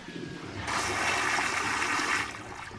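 A TOTO bidet toilet's pump-assisted flush rushes up suddenly, holds as a loud, steady surge of water for about a second and a half, then tapers to a trickle, close and without talking.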